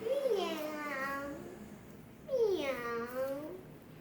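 A child imitates a cat, voicing two drawn-out, rising-and-falling meows one after the other, close and clear in a quiet room.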